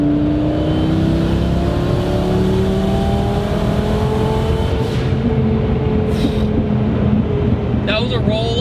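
A twin-turbo Lamborghini Gallardo tuned to 1200 hp pulls hard in fourth gear, its engine note rising steadily and loud and close for the whole stretch, with wind and road roar around it.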